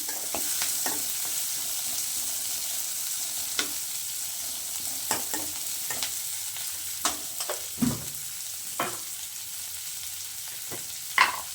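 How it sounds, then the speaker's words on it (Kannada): Green chillies fry in hot oil in a pan, with a steady close sizzle and scattered scraping knocks from a spoon stirring them. "ಅದಕ್ಕೆ ಇವಾಗ ಹಸಿಮೆಣಸಿನಕಾಯಿ ಹಾಕತ್ತೀನಿ."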